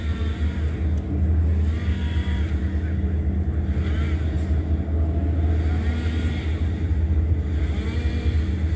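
A Foothill Transit bus passes on a street, a continuous heavy low engine rumble with broadband road noise holding steady for several seconds, fairly loud and close, with no talk over it.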